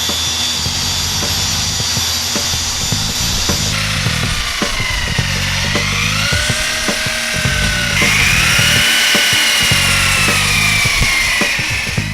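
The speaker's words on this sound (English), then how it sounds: "So we got our cutting pad and we got our specially formulated compound we use for these headlights." A power polisher fitted with a cutting pad and compound works a BMW 325i headlight, giving a loud steady whine that shifts in pitch as the pad is pressed and moved, with no talking.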